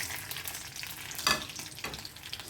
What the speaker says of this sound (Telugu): ఇవన్నీ కలిపి వేయించేసుకుందాం